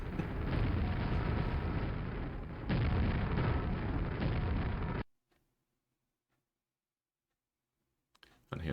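A reactor chain-reaction explosion in Quake plays as a loud, sustained rumbling roar of blasts for about five seconds, then cuts to near silence with faint clicks.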